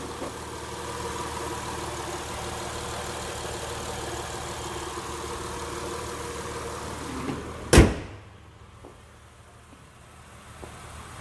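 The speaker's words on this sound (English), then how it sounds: "It is running now, you may be able to hear it." A 2007 Honda Elysion's 3.5-litre VTEC V6 engine idles quietly and steadily, a low even hum, interrupted near the end by a sharp thump like a door closing.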